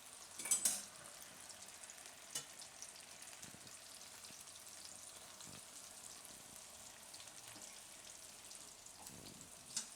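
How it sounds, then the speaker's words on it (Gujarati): Raw papaya chips deep-fry in hot oil on a gas stove at low heat, giving a faint, steady sizzle with soft bubbling and occasional light clicks, and no talking. "તો આને આપણે તળાવવા દઈએ."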